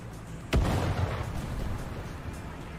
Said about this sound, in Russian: Я не понял, кто где, откуда стрелял.